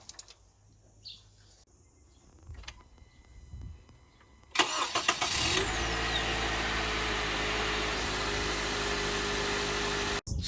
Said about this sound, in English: now the starter motor sounds significantly healthier